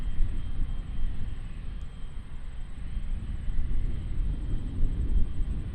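Singapore Airlines Boeing 777 at Auckland Airport, a steady low jet rumble at moderate distance, continuous and unbroken with no voices.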